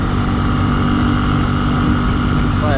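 A 2021 Benelli TNT135 motorcycle engine drones steadily at a constant 6,000 RPM while cruising in top gear, loud and close with a continuous buzzing tone and rushing wind noise.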